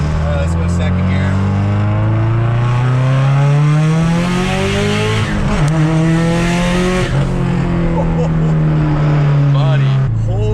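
A big-turbo Subaru STI pulls hard in second gear, its raspy engine note climbing loudly and continuously, dipping once at a shift and rising again, with a wastegate hissing and excited voices partly heard over it.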